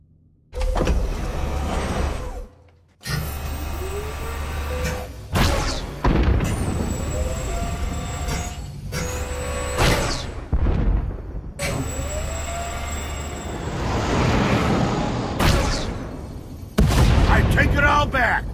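Starship weapons fire in Star Wars: The Old Republic, a video game: loud, repeated blasts and booming bursts in several volleys with short gaps between them, mixed with a busy game soundscape and voices.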